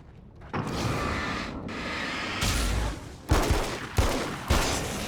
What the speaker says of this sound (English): this weapon fires quite fast